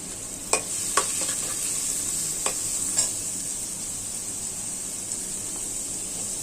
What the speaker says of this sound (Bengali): এখন আবার পেঁয়াজ দিয়ে দিব।